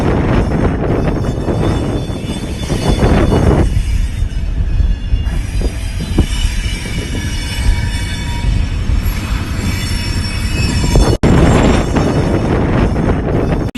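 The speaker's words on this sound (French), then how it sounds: "c'est apparemment l'un des plus grands trains dans le monde" A long iron ore train in Mauritania rolls past close by, its wagons rumbling and clattering with shrill wheel squeals, wind buffeting the microphone, and a sharp bang near the end.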